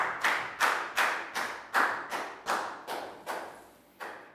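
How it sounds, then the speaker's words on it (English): About ten evenly spaced sharp claps, moderately loud and close, each fading quickly before the next, as a round of applause in a primary school classroom. "Big round of applause for Dan."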